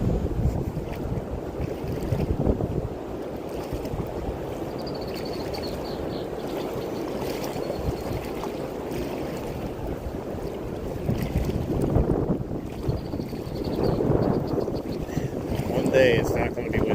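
Wind gusts buffet the microphone beside a river where someone is wading in waders. The rumble is steady with louder surges near the end, and a person talks faintly underneath.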